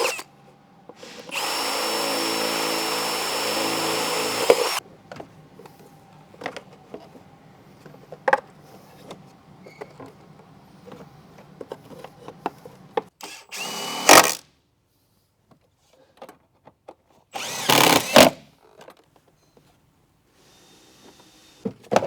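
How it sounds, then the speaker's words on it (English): A power drill bores holes in a car shop: one long, loud whine of about three seconds comes first, then scattered clicks and handling noises, with two more short, sharp bursts of drilling later. "So I'm going to drill 3 holes so this crap doesn't happen again."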